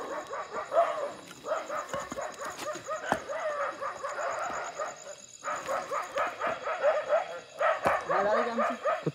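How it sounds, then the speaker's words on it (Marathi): A dog barks and yips repeatedly in fast bursts through most of the stretch, fairly close and loud, at an outdoor night cooking spot with a wood-fired clay stove. "तेवढं वरडायला लागलं मस्त."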